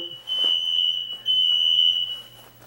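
A Kidde smoke alarm sounds two long, piercing high-pitched beeps back to back during a reset, loud and close, with a low hum underneath.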